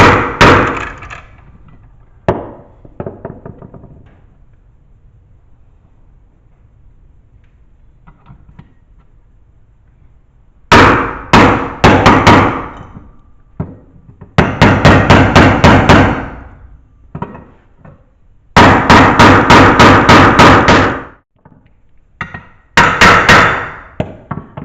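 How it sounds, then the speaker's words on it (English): Sharp metallic tapping in rapid clusters as a seal driver taps a seal into place on a 1966 Mustang engine, a few isolated knocks followed by longer bursts of repeated hammer strikes, close and loud. "selected with the proper size seal driver, and we just basically try to tap this into place"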